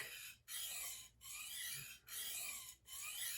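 Knife blade drawn across diamond sharpening stones coated with mineral oil, four steady rasping strokes with brief pauses between them, close and alone.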